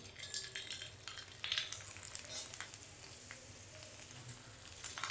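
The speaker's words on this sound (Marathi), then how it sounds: "मी तुम्हाला पापड तळून दाखवते" Rice flour papad deep-fries in hot oil, hissing and crackling as it puffs up. The sizzle is faint but constant, with a few brief louder bursts of bubbling and no talk over it.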